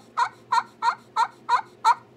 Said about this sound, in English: It sounds more like a Jake yelp.